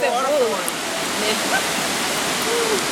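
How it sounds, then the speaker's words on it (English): Kintampo waterfall in Ghana gives a steady, dense rush of falling water, with a voice speaking over it. "Now the water is flowing down the stream."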